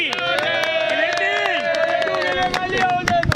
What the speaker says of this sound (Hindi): इस वक्त मेमन का बिरादरी के लिए तालियां हो जाए थोड़ी सी